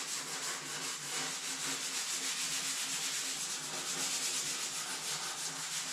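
Steady, close scraping of sandpaper over painted metal on a Ford F-350 fender, a continuous rhythmic rubbing that runs alone at an even level throughout.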